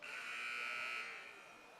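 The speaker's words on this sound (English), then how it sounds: "The 1 minute buzzer has gone off here" A high school basketball game's one-minute buzzer sounds as a single sustained electronic drone, loud for about a second before fading under gym crowd murmur.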